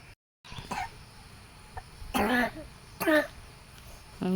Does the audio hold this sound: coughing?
yes